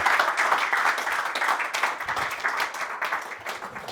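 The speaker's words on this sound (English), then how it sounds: "big round of applause for Neal" An audience applauds a speaker on stage, dense continuous clapping from many hands filling the room steadily throughout, with no talk over it.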